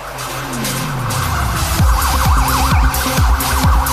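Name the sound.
police siren as team bus leaves stadium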